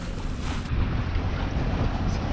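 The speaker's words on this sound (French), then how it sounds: "Et donc maintenant c'est moteur, ça va faire une nuit au moteur." A sailboat motoring at night under engine at sea near the Strait of Messina, a loud continuous low rumble with wind buffeting the microphone and water rushing past the hull.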